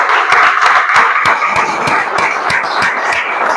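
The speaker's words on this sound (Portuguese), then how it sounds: "As palmas celebram o Senhor." A church congregation claps steadily together in rhythm, loud and close, a continuous wash of applause for several seconds with no talking.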